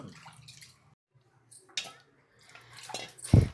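Rice being washed in water in a home kitchen, intermittent close sloshing and swishing with dripping, a brief quiet pause, then a louder splash at the end.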